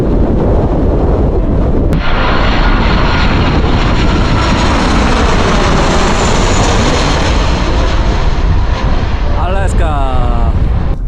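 An airplane roars loudly overhead in Alaska, a sustained, dense engine rumble that fills the whole stretch, with a short voice heard near the end.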